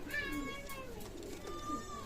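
Teddy pigeons coo in soft, rolling low calls that repeat and overlap, close by, with a faint background murmur.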